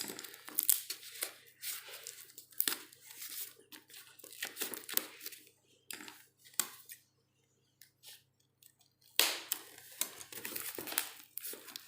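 Someone opens the cardboard box of a TVS computer keyboard: a quiet run of crinkling, scraping and tearing noises in short, irregular bursts, with brief pauses between them.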